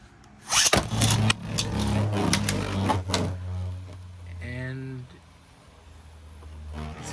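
A B-188 Astral Spriggan Beyblade in stamina mode, launched in left spin, hits the stadium with a burst of clatter, then settles into a steady, close whir that slowly fades as it wobbles and spins.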